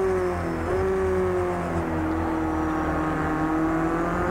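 A Renault Clio race car engine in Project CARS 2 drones loudly and continuously at high revs, pitch dipping and climbing slightly during a race, with other cars faintly around it.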